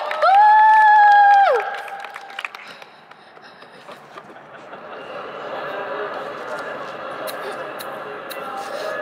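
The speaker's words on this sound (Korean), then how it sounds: "거기 박수 한번 쳐주세요." Applause from an outdoor audience at a street busking show in Ttukseom Hangang Park. It swells gradually after a sustained sung or spoken tone fades, then continues as a steady, moderately loud patter.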